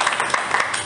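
Applause during a church service: a short, dense patter of many hands clapping together, steady and close with no voices.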